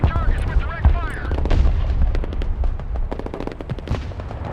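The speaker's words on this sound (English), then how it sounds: "Mobile artillery reporting in. Engaging targets with direct fire." Mobile artillery direct fire in the Broken Arrow war video game: a rapid series of sharp gunfire cracks and booms over a rumbling battlefield bed, loud at first and then a steady flurry of shots amid game voices.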